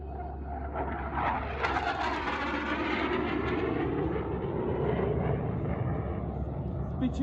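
A loud, steady roar of a jet aircraft engine at full power during an airshow, continuous and close, with a rising whine on top throughout.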